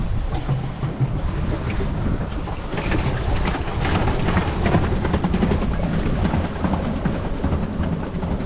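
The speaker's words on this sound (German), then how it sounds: "So, jetzt sind wir auf dem Boot und fahren zurück." A boat motors along off Crete with a steady engine drone, mixed with rushing water, splashing and gusty wind buffeting the microphone.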